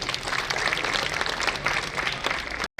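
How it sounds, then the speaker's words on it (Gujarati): At a community get-together of the Ahir community in Rapar, a crowd applauds steadily and loudly for a few seconds as two officials are welcomed onto the stage, and the clapping cuts off abruptly at the end. "આ બંને અધિકારી મિત્રોને તાળીઓના ગગડાટી વધાવી."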